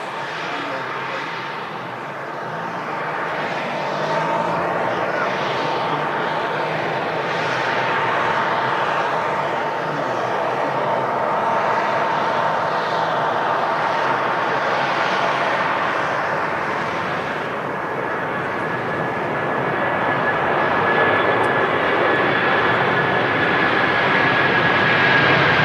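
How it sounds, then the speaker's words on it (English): Airbus A330 airliner taxiing out at Manchester Airport, a steady, fairly loud jet engine roar and whine that holds throughout, with a thin high tone rising in the last few seconds. "And here's the A330 on the taxi out."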